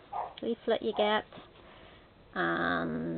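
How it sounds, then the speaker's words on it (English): A pet dog barks at someone arriving at the front door in a home, a single sustained harmonic bark or yelp standing out loudly after a woman's speech earlier in the moment. "that's my dog barking off with someone coming to the door"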